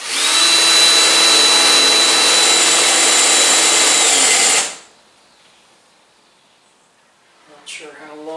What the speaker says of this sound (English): I want to get the drill going and then I'm going to touch the ring to it.